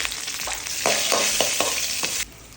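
Mustard seeds, chana dal, urad dal, two dried red chillies and a sprig of curry leaves crackle and sizzle in a spoonful of hot sesame oil, a steady close frying hiss with sharp bursts of spattering and stirring, then a sudden quieter tail.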